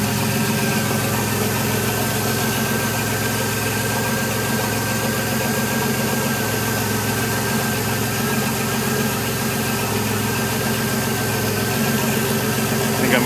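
DeLorean engine idling steadily while warming up after a cold start, a continuous close, even mechanical hum with faint rhythmic ticking and no voices.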